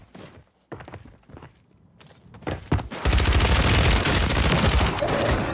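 Gunfire in Call of Duty Warzone: scattered single shots and footsteps, then a dense, loud sustained burst of automatic fire that runs to the end.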